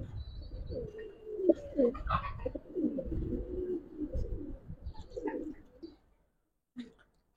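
Giribaz pigeons coo softly and close by in low, rolling calls that fade to near silence, with one brief final coo.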